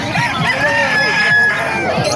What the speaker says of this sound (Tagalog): Napakarami po mga manok dito mga kamaster sa Bukay.